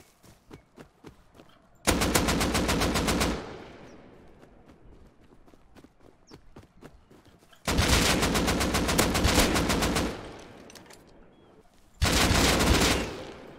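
Gunfire in the video game Rust: three long, loud bursts of rapid automatic fire, each lasting one to two seconds, with quieter footsteps and movement between them.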